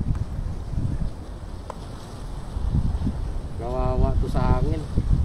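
Gusty wind rumbles and buffets the microphone outdoors during tenkara fishing, rising and falling in strength, while someone talks briefly in the latter part.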